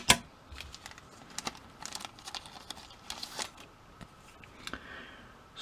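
A card is pulled from the packaging of a Transformers Titans Return Deluxe Blurr toy: close, quiet crinkling of plastic and cardboard with irregular light clicks and rustles over several seconds.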